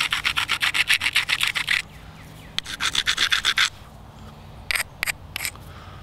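Rapid rhythmic scraping of an abrading stone against the edge of a flint arrowhead being knapped, coming in close, steady bursts of gritty rubbing strokes separated by short pauses.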